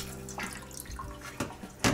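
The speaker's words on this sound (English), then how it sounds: "First up, we'll fill a tub of cold water" Cold water running from a tap into a tub, used for rinsing ultrasonic cleaning fluid off clock parts, a steady splashing wash with a few small knocks and a louder surge at the end.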